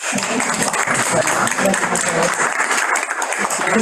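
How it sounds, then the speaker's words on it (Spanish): A webinar audience gives a dense, continuous round of applause after a talk on the natural gas crisis, with a voice faintly present under the clapping. "Tenemos preguntas, pero antes un aplauso."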